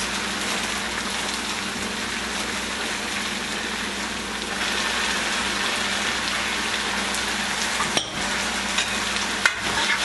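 Chopped tomatoes fry and get stirred in a pan for eggplant bhartha, a steady close hiss with a few sharp utensil knocks near the end and no talking.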